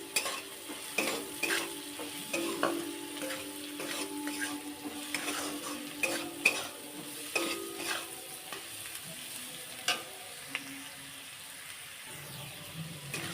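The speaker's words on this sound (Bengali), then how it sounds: "দিয়ে ভালো করে ভাজা করে নিতে হবে" Diced vegetables seasoned with salt and turmeric stir-fried in a pan: a continuous sizzle with irregular spatula scrapes and taps against the metal, close up, without any voices.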